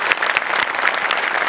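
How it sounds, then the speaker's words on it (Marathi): A live audience applauding after a comedy act, a loud burst of dense, many-handed clapping close at hand. "जोरदार टाळ्या."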